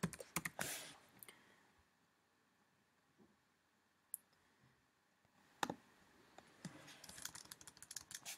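A computer keyboard is typed on to enter a command into a GeoGebra input field: quiet close clicks in short bursts with pauses, no talking.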